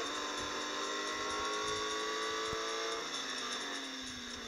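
A BMW M2 Competition accelerates in the Real Racing 3 mobile racing game, a steady high-pitched engine whine rising through the gears, with tones climbing and a gear change near the end, heard alone at moderate level.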